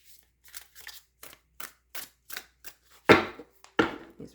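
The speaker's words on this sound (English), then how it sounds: "let's give them a really good shuffle here" Playing cards shuffled in a series of quick riffling bursts, about a dozen crisp ruffles, the last two louder and longer.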